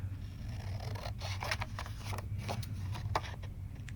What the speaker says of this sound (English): Scissors, they're the way.